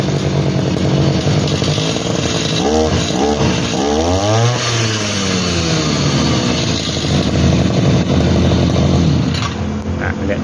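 A Husqvarna 541RS brush cutter engine runs close by, a buzzy two-stroke drone with a couple of rising and falling revs in the middle, steady and loud throughout.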